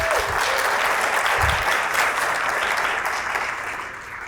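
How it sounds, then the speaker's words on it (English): Sustained audience applause greets Lindy Kyzer, a writer on security clearances, as she is introduced at a talk; dense, loud clapping holds steady, with a faint voice under it near the start, then thins slightly toward the end. "So please join me with the biggest round of applause that you could do for Lindy Kyzer"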